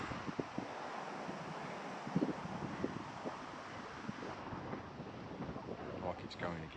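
Cold wind blowing outdoors beside a carp fishing lake in England, a steady rushing hiss with microphone buffeting, broken by faint scattered knocks and brief murmuring voices in the background.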